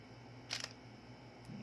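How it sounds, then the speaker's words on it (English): A DSLR camera part being twisted gives a couple of quick, faint mechanical clicks close by, followed by quiet. "We need to twist this part of this camera."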